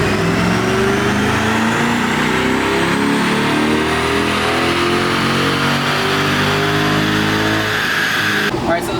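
A twin-turbo 2024 Corvette E-Ray engine revs hard on a dyno pull, a loud sustained roar with rising pitch as it climbs through the gears, ending abruptly with a brief clatter as the run cuts off.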